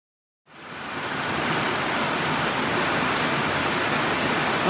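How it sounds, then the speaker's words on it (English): Heavy rain pours down outside a trail shelter on a mountain hiking route, starting abruptly, then holding as a loud, dense, steady hiss. "we got a big rain happening"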